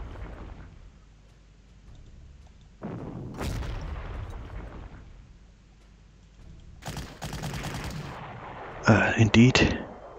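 Artillery fire in a WWII strategy game set in Warsaw, 1944: several heavy booming shots at irregular intervals, with a dense burst of rapid blasts near the end, loud and close.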